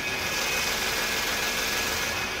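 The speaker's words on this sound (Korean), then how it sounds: "지금 영상에서 들리시는 것 같이 굉장히 정숙하고 규칙적인 엔진 사운드 들려주고 있고요" A quiet, smooth Kia K9 luxury sedan engine idles steadily with an even hum and broad airy hiss, heard close and alone with the hood open.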